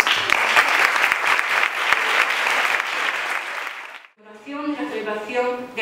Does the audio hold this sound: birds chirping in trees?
no